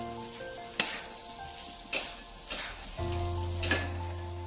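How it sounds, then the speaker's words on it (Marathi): Diced potato sautéing in a pan for sabudana khichdi, a soft steady sizzle broken by four sharp scraping stirs of a spatula, close and quiet without talk. "बटाटा 1 मिनिट परतून घेणार आहे, जास्त नाही।"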